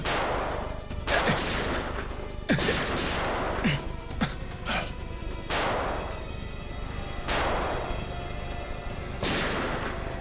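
Gunfire in a Bengali TV crime drama: several sharp shots ring out one after another at irregular intervals through a steady background, with some brief faint noises between them.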